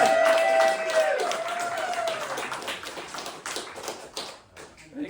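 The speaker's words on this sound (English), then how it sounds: "Let's have a big round of applause for our hero and our man of the day" Audience applause at a book launch, a dense patter of clapping hands that starts strong and slowly thins out, with a few voices and cheers mixed in near the start.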